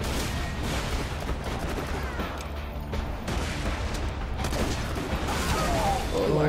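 A big gun fires in the video game Borderlands 2 as a dense, continuous barrage of booming shots and mechanical clatter, loud throughout.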